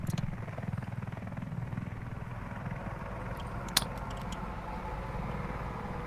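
In the video game Squad, helicopters fly overhead with a steady, rhythmic rotor chop, low and continuous, and a single brief click partway through.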